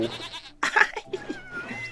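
A sea goat in the video game Tasty Planet Final Bite gives a wavering bleat that rises out of quieter background game sounds, one short bleat about a second long, with no talking.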